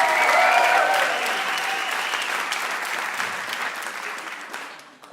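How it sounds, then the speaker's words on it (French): A theatre audience at a live comedy show applauds a performer: dense, sustained clapping that starts full and gradually thins out and fades toward the end. "Plus fort que ça, on applaudit Hicham."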